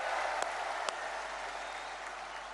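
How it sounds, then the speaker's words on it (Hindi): A large outdoor crowd at a public event in Sagar, Madhya Pradesh, applauds to welcome Prime Minister Narendra Modi, with sustained clapping from a distance and a few sharper individual claps near the start. "एक बार दोनों हाथ ऊपर उठा के तालियां बजा के स्वागत कीजिए"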